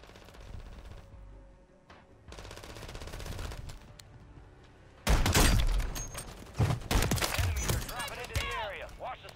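Sniper rifle shots in the battle royale game Warzone, loud sharp cracks bursting after a quieter stretch of game ambience, with several close reports in quick succession and some talk mixed in.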